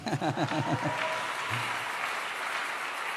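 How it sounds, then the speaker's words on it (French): A church congregation breaks into rhythmic applause, with loud clapping at first that then settles into a softer, steady crowd clapping. "Donc, il faut acclamer pour moi aussi"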